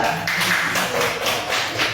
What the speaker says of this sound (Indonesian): Boleh tepuk tangannya untuk kelompok 3.